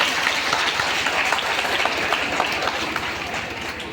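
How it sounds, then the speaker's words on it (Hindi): A crowd in a wedding hall claps and applauds steadily for several seconds, a dense wash of hand claps with a faint murmur of voices underneath. "एक बार जोरदार ताली बजाइए।"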